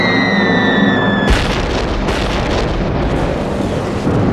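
Bombs dropped by Japanese bombers on an island burst in a heavy, roaring explosion that cuts in abruptly after a high tone, then rumbles on loud and continuous with further booms.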